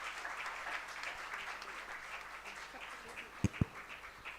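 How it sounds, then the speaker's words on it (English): Audience applause at a data science conference in a hall, a faint steady patter of clapping from a distant crowd, with two sharp louder knocks near the end. "Can we give them a big round of applause for taking that effort and time for us?"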